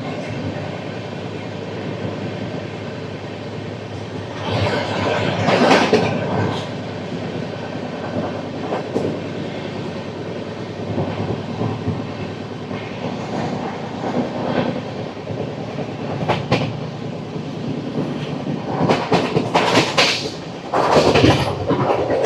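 Narayanadri Superfast Express, train 12734 from Lingampalli to Tirupati, rolls through Chityala station without stopping; a sustained rumble carries loud bursts of rattling and clattering wheel beats across the whole span.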